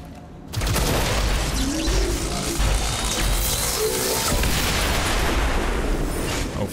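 A heavy explosion in the video game XCOM Chimera Squad erupts after a brief quiet moment into a loud, sustained roar of rumbling blast and crackling debris that holds steady for several seconds.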